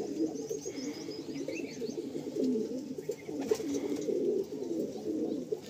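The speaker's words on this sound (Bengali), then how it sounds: "বাহ, এটা নর পায়রা।" A male pigeon coos in steady, overlapping low throaty rolls, close and fairly loud, with a few faint higher chirps in the background.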